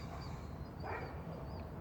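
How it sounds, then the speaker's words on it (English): Short yips from a dog that barks all day, coming from some distance, fairly faint and low in level against steady background noise. "That dog bark all day for no goddamn reason."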